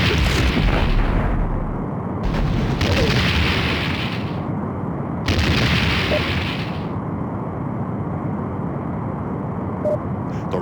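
Romulan Warbird blowing apart under weapons fire in a Star Trek: The Next Generation – A Final Unity DOS space battle, a loud sustained rumbling explosion with two bright bursting swells over a continuous roar.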